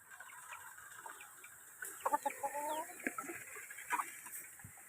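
Several roosters clucking and murmuring nearby in short, uneven bursts over a quiet outdoor background at a chicken coop.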